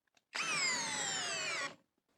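A Hyper Tough brushless cordless drill, fully charged and set to high speed, spins up during a torque test: one steady whining motor run of about one and a half seconds with a slight downward pitch sag, close and loud, alone.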